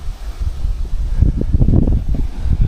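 Wind buffets the microphone outdoors, producing a fluctuating low rumble that swells and gusts over a few seconds with no other clear sounds.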